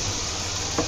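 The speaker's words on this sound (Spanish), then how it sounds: "hago un sofrito" Sofrito sizzling steadily in a hot pan for a lentil-sprout dish with meat and potatoes, a continuous close frying hiss with a brief clink of a utensil near the end.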